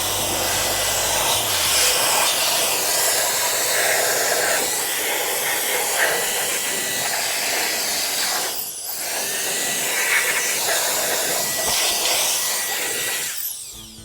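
Compressed air hissing steadily as it blows dirt out of cracks in a car during detailing, a loud continuous rush with a brief dip partway through.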